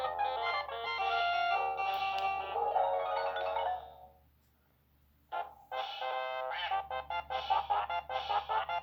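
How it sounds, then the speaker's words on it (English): Electronic quacking duck effect from a Fisher-Price Pixter Music Studio cartridge, a run of short bright synthetic quacks in quick uneven succession after a brief pause, loud and close with no talking. "you have to have a quacking duck sound on electronic music"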